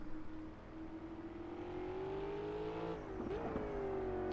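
A Corvette C7.R race car engine at Silverstone in the video game Project CARS drones steadily and then rises in pitch as it revs, a smooth continuous tone at moderate volume.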